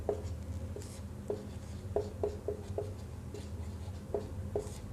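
Pen or chalk writing during a biology lesson on mitochondria, heard as a series of short, regular scratching strokes in quick bursts, fairly close and alone with no talk.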